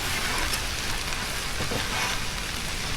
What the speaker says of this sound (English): Go ahead and add a little bit more oil right here. I'm gonna get these the smoked sausage going.